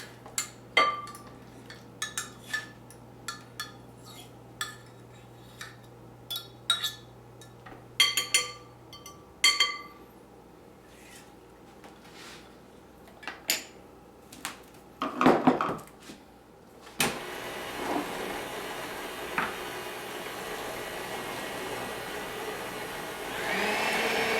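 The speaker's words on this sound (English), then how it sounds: "We will now put them in to our mixer." Mashed bananas for banana bread are scraped and dropped into a bowl with scattered clinks and knocks, then an electric mixer starts and runs with a steady whirring drone to the end.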